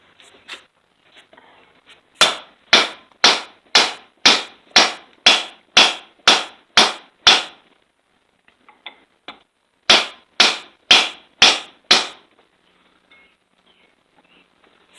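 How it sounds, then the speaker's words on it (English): A big hammer strikes a white oak block set on a socket during repair of a Sovema EM 272 finish mower, giving two sharp, evenly spaced runs of loud, close knocks separated by a quiet pause. "Piece of white oak here on top of the socket. Try this big hammer, bigger hammer."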